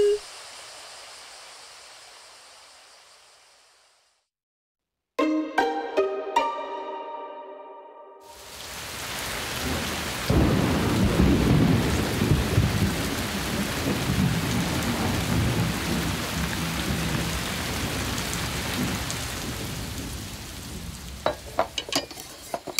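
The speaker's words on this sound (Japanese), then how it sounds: "ウンディーネにね、今から5分後くらいに雨降らせるようにお願いしてくれる" Rain and thunderstorm effect in a Japanese radio drama: a fading whoosh and a run of chiming tones give way to loud, steady, heavy rainfall with deep rolling thunder, no voices.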